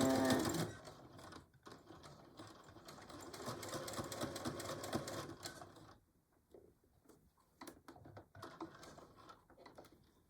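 Sewing machine stitching fabric for a Christmas pincushion, a rapid close mechanical whir for several seconds that stops, followed by short bursts of stitching and faint handling noise.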